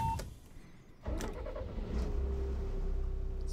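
A Heuliez GX327 bus engine in the OMSI 2 simulator revs after a brief click and a short quiet gap, then holds a steady, moderately quiet drone with a faint rising whine.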